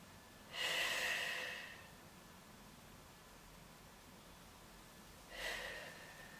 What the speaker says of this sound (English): breathing in and breathing out to come back again